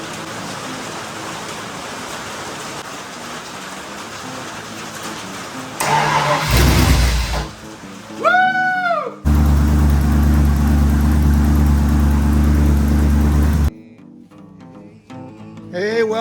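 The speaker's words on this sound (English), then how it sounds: "Today is the day we're going to start the Pro Street Pinto." A V8 engine swapped into a Ford Pinto pro street build, with a fuel leak, cranks over, catches with a loud roar and idles roughly for several seconds close by before shutting off.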